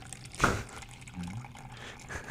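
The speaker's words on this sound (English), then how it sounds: "Pour that into a glass." A drink poured into a glass: a brief, close splash of liquid, then a faint trickle and fizz over a quiet background.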